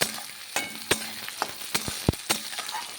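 Red lentils tossed with chilli in hot oil give a soft steady sizzle, with a series of sharp spoon-on-pan scrapes and knocks at irregular intervals as the mix is stirred.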